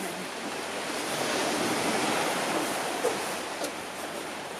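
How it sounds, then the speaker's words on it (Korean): Sea waves wash onto the shore along the Jeongdongjin coastal path in November, a continuous broad rushing surge that swells in the middle, with a little wind and no talking. "파도 소리를 들으며"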